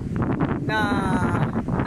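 Steady wind buffets the microphone at a seaside beach, a broad rushing roar that stays loud throughout, with a voice speaking briefly over it.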